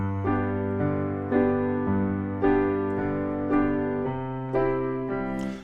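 Piano playing a song with left-hand fifths in the bass, a steady sequence of chords struck every second or so with a full low end, clear and alone.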